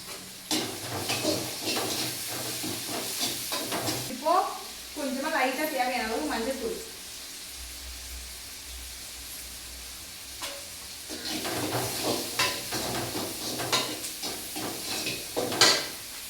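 Onion, tomato, ginger, garlic and fresh curry leaves sautéing in a pan, with bursts of sizzling and scraping stirs at the start and end and a loud hissing spit in between.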